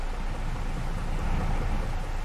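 Steady rain in the farming video game Farming Simulator 22, a dense, even hiss with a low rumbling undertone that stays constant throughout, loud and without any voices.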